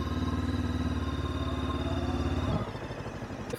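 A Morbidelli T502X motorcycle fitted with side and top boxes runs with a close, even throbbing engine note for about two and a half seconds, then the sound drops and thins as it moves off.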